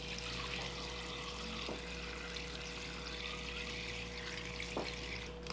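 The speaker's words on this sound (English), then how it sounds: "Now we're gonna add some veggie broth to cover the pasta." Vegetable broth pours into a pot of pasta in a steady, close liquid splashing and trickling stream throughout, without talk.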